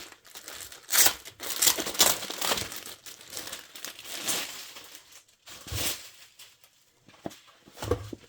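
A plastic-wrapped item from a book box is handled at close range, its wrapping crinkling and rustling in irregular bursts with brief pauses between.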